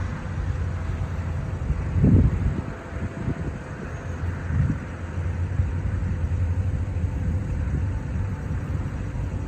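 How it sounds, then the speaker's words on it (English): A school bus drives past, its engine a low rumble that swells briefly and fades, heard amid steady wind noise outdoors. "There's the school bus."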